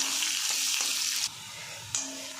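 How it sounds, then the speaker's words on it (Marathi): Chopped onion frying in a pan until reddish for a bitter gourd curry, a steady sizzle broken by brief gaps and scraping stirs that make it drop quieter, then flare up again. "आता कांदा चांगला ना लालसर होईपर्यंत परतवून घ्यायचा"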